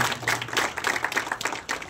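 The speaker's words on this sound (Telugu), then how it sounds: "మరి వారి ఇరువును కూడా మనం అందరం కూడా చప్పట్లు కొట్టి ఆహ్వానిస్తున్నాం" A crowd at a Christian grotto inauguration in Kotapadu claps steadily for a brief, dense burst, welcoming two priests.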